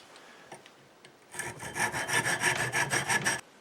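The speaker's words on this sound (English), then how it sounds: "Just going to cut off some of the excess here." A handsaw cuts excess wood from a wooden Master Sword prop, about ten quick rhythmic rasping strokes, close and loud, following a few faint knocks.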